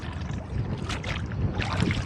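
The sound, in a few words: wind while rowing a boat on a lake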